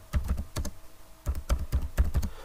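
Fingers tap quickly on a computer keyboard while a message is entered, a close run of crisp key clicks in short bursts with a brief pause midway.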